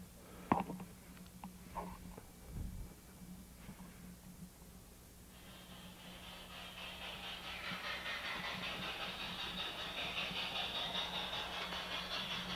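LGB model train starting up on an automatic route-selection track layout, a few clicks and a switch thump at first, then a steady, rising electric motor hum and rolling hiss as the train runs along the rails.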